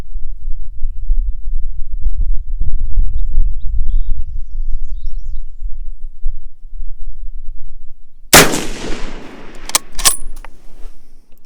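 A single loud, sharp crack from a James River Armory 1903A4 rifle firing 175 gr match ammunition, followed by a short ringing decay and a couple of clicks, after several seconds of low wind rumble outdoors.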